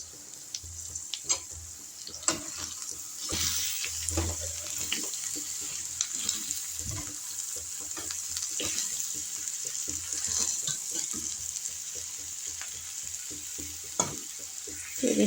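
Egg palya frying in a pan over a medium flame as coriander is stirred in, giving a steady close sizzle with scattered scraping stir clatters and clinks throughout.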